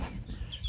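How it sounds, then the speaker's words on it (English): Barnyard chickens give a brief, faint cluck, a short burst with no talking over it. "These are barnyard chickens"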